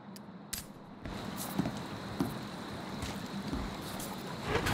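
A motorboat cruising across a lake in Battlefield Hardline, its engine and the rushing water making a steady, loud broadband roar that holds throughout with a few small bumps and no voices.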